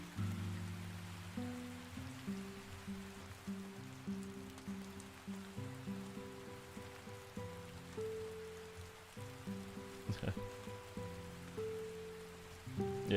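Steady rain patters on a surface throughout, mixed under soft, sustained tonal music at a moderate level, with no voices.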